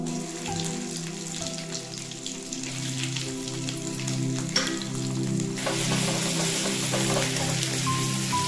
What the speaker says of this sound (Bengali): তেলটা গরম হতেই আমি দিয়ে দিচ্ছি আমার যে গোটা যে মশলাগুলো ছিল, এলাচ, লবঙ্গ, দারচিনি, শুকনো লঙ্কা